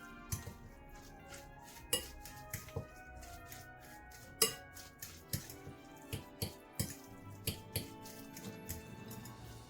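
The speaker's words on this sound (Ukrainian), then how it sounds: "Перемішуємо, додаємо небагато майонезу, лише щоб скріпити." A salad mixture being stirred with mayonnaise in a bowl, heard as a series of light clinks and taps of a utensil against the dish at an uneven rhythm, close but soft.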